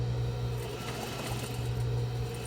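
A sewing machine back stitches the edge of a box-style fabric face mask, a steady close motor hum running without a break and alone.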